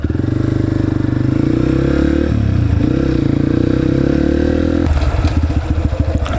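A dirt bike engine runs loud and close, warmed up and ridden with a steady throbbing note that shifts pitch midway and rises into harder revving near the end.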